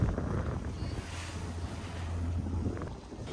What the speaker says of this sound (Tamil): ரிட்டன் போகிறப்ப பார்த்திங்கன்னா பயங்கர காற்று, தண்ணியெலாம் மேலே இஷ்டத்துக்கு அடிக்குது.